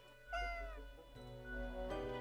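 A cat meows twice in the video game Death and Taxes, a drawn-out rising-and-falling mew followed by a shorter second call, clear and close over a low hum.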